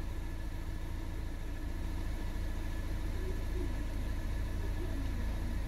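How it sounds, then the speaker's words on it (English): The engine of a 2017 Toyota Yaris iA idles after a MAP sensor air-leak repair, producing a quiet, steady hum with a faint low drone and no voices. "Now the car is running at idle."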